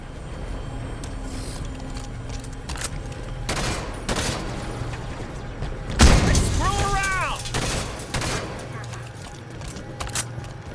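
Bursts of heavy cannon fire and booming blasts from a Halo 5 battle, with one loud impact partway through and voices and effects layered over the din.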